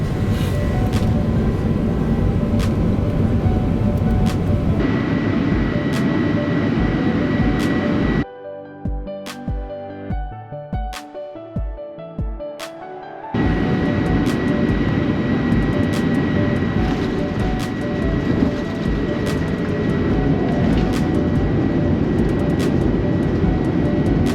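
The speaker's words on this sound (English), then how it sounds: "now enjoy the landing at Heathrow" A British Airways Airbus A380 landing at Heathrow, heard from inside the cabin as a loud, steady roar of engines and airflow, broken midway by a few seconds of quieter rumbling with bumps before the full roar returns.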